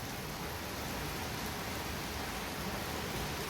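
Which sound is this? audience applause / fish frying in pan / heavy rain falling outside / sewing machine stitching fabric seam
heavy rain falling outside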